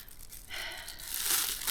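A plastic bag crinkles close by in the woods, a short soft rustle that swells and brightens after a quiet start, with no voices.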